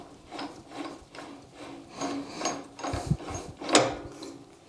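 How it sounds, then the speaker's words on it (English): Sandpaper rubbing against a small spinning box elder burl dish on a wood lathe, a soft rhythmic rasp pulsing about once per second, fairly quiet and without speech. "get some finish sanding in there"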